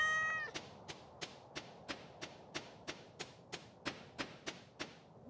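A cat in the video game Stardew Valley gives one short, clear meow, followed by a steady run of soft rhythmic taps, all quiet and with no talking.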